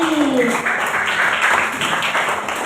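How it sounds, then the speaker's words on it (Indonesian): Schoolchildren in a classroom clap together, a brief burst of hand claps with children's voices chattering over and around it. "Tepuk tangan 2 kali."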